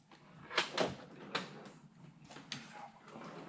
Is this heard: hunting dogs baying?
no